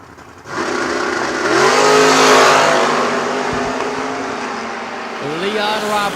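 Drag race cars, a Chevrolet Camaro and a Monza, launching off the line: a loud, close engine roar rising in pitch as they accelerate, easing, then a second revving burst near the end.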